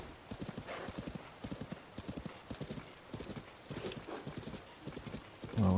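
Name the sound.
horse hooves and neigh after mounting, Tears of the Kingdom video game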